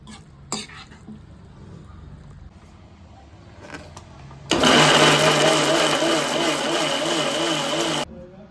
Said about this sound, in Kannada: ನೋಡಿ ಇವಾಗ ನೀರು ಹಾಕೊಳ್ದಿರೇ ರುಬ್ಕೊಂಡಿದ್ದೀನಿ